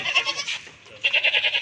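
A goat at a goat farm bleating repeatedly in quick, wavering calls, close and clear, with a short pause midway before another run of rapid bleats.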